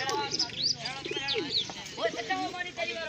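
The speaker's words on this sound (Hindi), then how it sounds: "कबूतर, खूबसूरत कबूतर।" Pigeons coo softly nearby, with low throaty calls and a few higher chirps, under quiet background noise.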